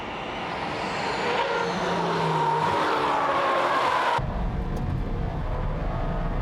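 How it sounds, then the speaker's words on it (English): Hattori's Subaru Impreza race car drives hard on a circuit, its engine droning steadily up close while tires squeal and skid, before the sound cuts abruptly to a lower rumbling roar. "Here goes Hattori in the Impreza."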